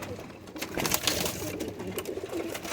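A Bazari Fakir Gul pigeon coos in low, throaty rolling phrases close by, continuous over a light background murmur.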